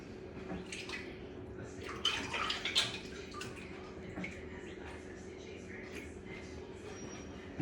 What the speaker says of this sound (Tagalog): hinugasan ko muna yung kamay ko kasi yung bawang malagkit sa kamay